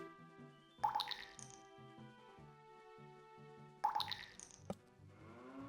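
Eye drops splash in Ocarina of Time: two bright, wet drip-and-plop bursts about three seconds apart, set over a soft sustained game music bed.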